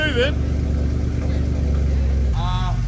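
A Mercedes C63 engine rumbles low and steady as the car pulls away, a deep throbbing drone with a brief rev toward the end, while people talk over it.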